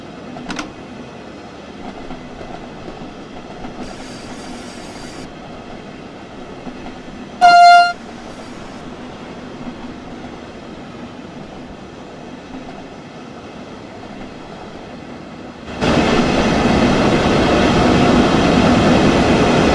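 Simulated passenger train on the Riesa–Dresden line in Train Sim World 2, a low rolling rumble with a short loud horn blast midway, ending in louder broadband running noise as speed or track sound rises.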